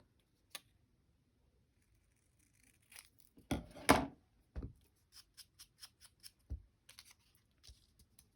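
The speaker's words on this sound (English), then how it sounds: "I'm just going to cut a little off." Scissors cutting paper for a heart-themed journal, a few crisp close snips with a louder rustling cut in the middle, followed by scattered light clicks and taps in a quiet room.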